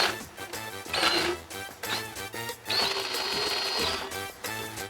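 A veterinary power rasp grinds on a horse's teeth in bursts, a buzzing mechanical whirr that starts, stops and restarts at close range, with faint background noise between runs.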